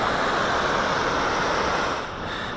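Heavy rushing water in Jackman Canyon, Yosemite, a creek running high with snowmelt, gives a steady, loud, broadband roar that never lets up and sits close and dense, with no voices over it.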